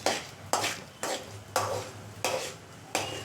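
Coriander seeds are stirred in a pan with a utensil, giving six evenly spaced scraping, rattling strokes about half a second apart over a faint background, close by and with no voices.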